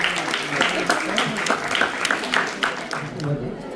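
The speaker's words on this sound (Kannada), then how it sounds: "ಜೋರಾದ ಚಪ್ಪಾಳೆಯೊಂದಿಗೆ ಸಿಂಗಾಪುರ ಶಾಖೆಯ ಉದ್ಘಾಟನೆ" A crowd applauds loudly and steadily at the inauguration of the Jain Milan Singapore branch during Jain Sammelana 2025 in Singapore, a dense patter of many hands that lasts throughout, with voices mixed in.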